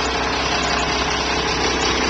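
A classic truck's engine idles steadily and close by, a continuous broadband rumble with a low throb that holds even throughout, with no voices over it.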